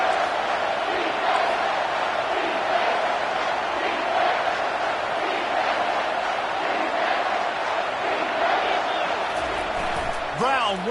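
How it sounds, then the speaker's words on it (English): A roaring stadium crowd in the College Football 25 video game swells on a third-down defensive play, a loud continuous wall of cheering under a commentator's voice. "this crowd will blow out a vocal cord to help this defense"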